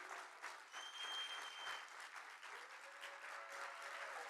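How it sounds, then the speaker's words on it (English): An audience at a closing session applauds steadily, dense even clapping that stays strong for several seconds, with a faint voice briefly over it. "Let's give you a big round of applause"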